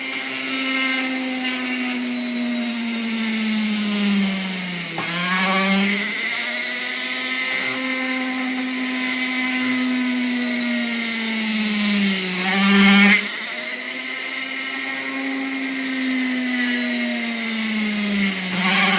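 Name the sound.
electric drill boring holes in recycled wind turbine blades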